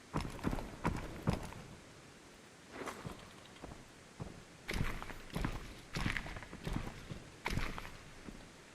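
Footsteps in the VR shooter Contractors Showdown: ExfilZone fall in irregular clusters of soft thuds at moderate distance, with pauses between the bursts of walking and no speech.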